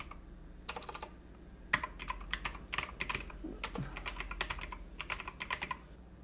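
Text typed into PowerPoint on a computer keyboard comes through as close, quiet clusters of quick keystroke clicks in irregular bursts, with no voices.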